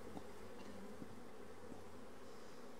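Honey bees buzz in a dense, continuous drone as they are shaken off a drone-trapping comb, a faint, steady swarm hum with a few soft knocks and no talk.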